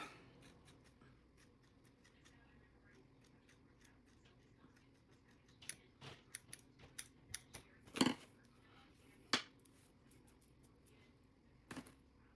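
Scissors point-cutting the hair of a synthetic wig: a scattered run of crisp, quiet snips, a few close together and a couple of sharper cuts standing out over a faint room hush.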